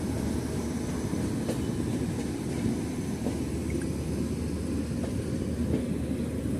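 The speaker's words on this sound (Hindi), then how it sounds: "ये जो ट्रेन लगी है, नाम तो नहीं डाला अभी, न्यू दिल्ली AC1" Passenger train at New Delhi station, a steady, close rumble of rolling rail cars with faint clicks and squeaks from the wheels and no voices.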